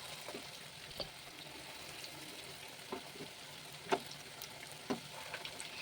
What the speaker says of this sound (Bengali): পকোড়াগুলো লাল লাল করে ভেজে নিলাম।